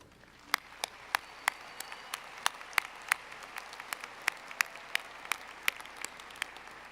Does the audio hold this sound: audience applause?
yes